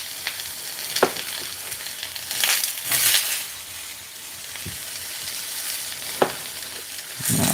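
Halved tomatoes sizzling and roasting in a hot pan for salsa, a soft crackling fry with occasional sharper pops and clinks throughout.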